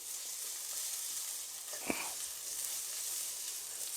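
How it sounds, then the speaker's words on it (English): Vegetables hit hot sesame oil in a pan, giving a steady bright sizzle with a single sharp clank of a utensil or pan partway through, close and alone without speech. "we're going to get some sesame oil into a nice hot pan, and then we're just going to get our veg in there"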